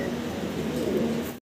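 Cooing of a fancy Syrian Shaki pigeon, close up: a low, steady, throaty purr that rolls on for over a second, then stops abruptly.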